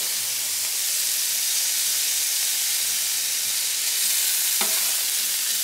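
Hash browns fry on a Blackstone E Series griddle, giving a steady, loud, close sizzle that runs unbroken throughout, with a brief scrape or tap near the end.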